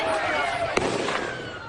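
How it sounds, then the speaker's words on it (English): Gunshots ring out over Bondi Beach during an attack in Australia, heard as a sharp crack within dense noisy crowd sound and a voice talking over it. "As gunshots rang out over Bondi Beach, disbelief turned to utter terror."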